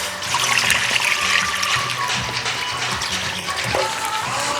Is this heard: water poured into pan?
yes